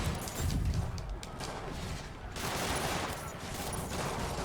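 Sustained gunfire from prison guards in the Spider-Man PS4 game, a dense, continuous clatter of shots loud and close throughout, with busy game noise and no clear pauses.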